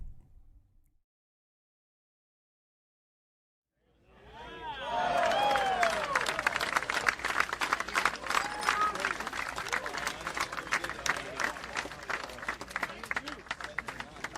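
After several seconds of silence, a sustained crowd-style clapping and applause sound swells in and continues steadily, quiet overall, mixed with a busy babble of background noise.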